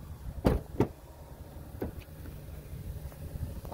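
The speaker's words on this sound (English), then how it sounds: "Might help if I unlock the vehicle here." A 2017 Ford Explorer unlocks with a few short, sharp clicks close by, followed by faint mechanical taps against a quiet outdoor background.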